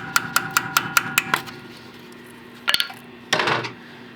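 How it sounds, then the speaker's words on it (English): Seven quick metallic taps from a small hammer on a rusty brake line fitting in an even rhythm, close up, followed after a pause by a couple of brief clanks and a scraping rattle. "I always like to start with a hammer and just tap them a little bit."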